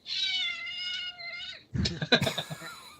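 A cat gives a long, clear, drawn-out meow close by, then handling noises and faint talk follow.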